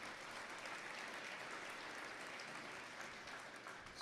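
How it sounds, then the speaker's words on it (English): Steady applause from a crowd at a public meeting, a continuous wash of clapping heard at a moderate distance for several seconds. "I think we really owe him a round of applause"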